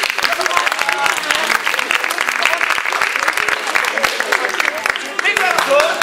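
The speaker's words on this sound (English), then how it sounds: "can we have a big round of applause" A dense, continuous wash of audience applause fills the space for several seconds, loud and steady, with voices talking faintly over the clapping.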